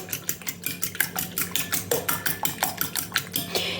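Two eggs with a pinch of salt whisked for batter in a bowl, a fast, even run of sharp clinking strokes about four per second, close and fairly loud, with no talking.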